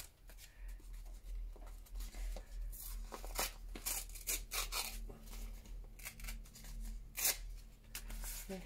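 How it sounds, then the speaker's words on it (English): A paper page torn out by hand to leave rough edges for a vintage mannequin collage, with close, crisp ripping bursts and rustling in quiet surroundings. "I want those rough edges, so I'm just gonna tear it out like so."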